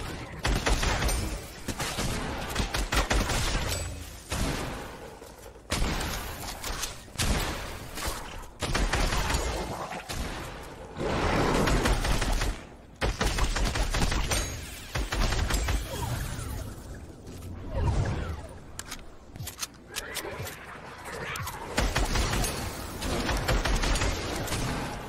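Sustained rapid gunfire from a light machine gun aimed at zombies in a Fortnite zombie mode match, loud and dense bursts nearly continuous with brief pauses, no talk over it.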